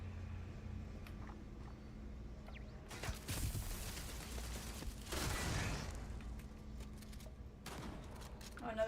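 Turrets in the Starfield video game fire bursts of rapid gunfire, two sustained volleys and a shorter one, with a low game soundtrack droning beneath.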